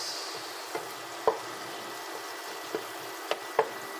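Onions frying in a pan for fried rice with leftover adobo give a faint, steady sizzling hiss broken by a few soft ticks and pops.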